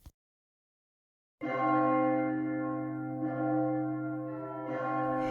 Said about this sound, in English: from the jingling and the tinkling of the bells.